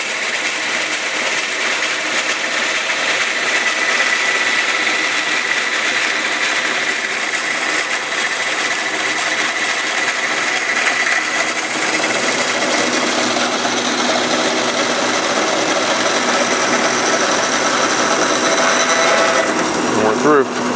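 A Model 2054 reversed cutting machine cuts through plastic totes with a loud, continuous grinding roar. It holds steady for about twenty seconds and shifts near the end as the cut finishes.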